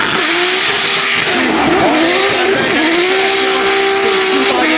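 A Nissan S14 drift car sliding on track during a pro drift qualification in Sainte-Croix, Québec, a loud continuous tire squeal wavering over a roaring engine, steady and close throughout.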